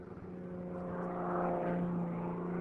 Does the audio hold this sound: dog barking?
no